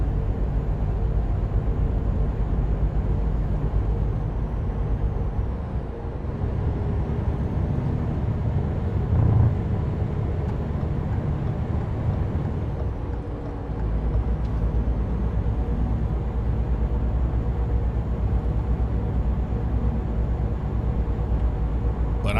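An 860 truck being driven in American Truck Simulator, its engine producing a steady, low droning rumble with a slight swell near the middle. No talking is heard.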